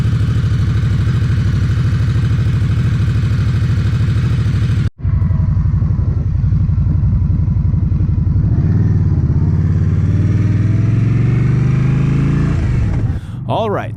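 An Indian Scout motorcycle engine idles with a steady low rumble, then revs up with rising, throaty pitch before dropping off at the end.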